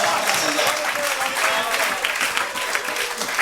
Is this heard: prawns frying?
no